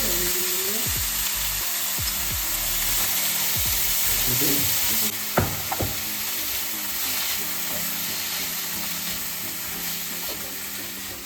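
Chopped broccoli frying in hot ghee with chillies in a pan, a steady close sizzle with occasional scraping stirs and clatters, fairly quiet overall.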